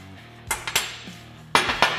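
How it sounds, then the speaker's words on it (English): Steel steering knuckle sliding off a Polaris RZR Pro XP UTV A-arm, giving a few sharp metallic clinks and knocks in two small clusters, close and isolated. "slide our knuckle off"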